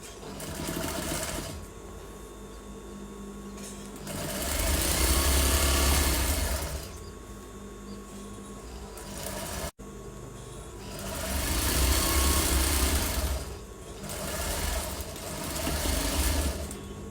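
A sewing machine stitches channels into palazzo pants in bursts of rapid mechanical whirring, several runs of a few seconds each separated by quieter pauses, close and clear.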